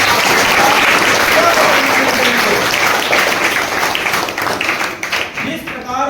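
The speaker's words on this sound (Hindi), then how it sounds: "एक बार जोरदार तालियों के साथ" Schoolchildren applauding at a government school quiz show styled after KBC, loud sustained clapping from a large group of students that thins out toward the end, with a voice talking over it.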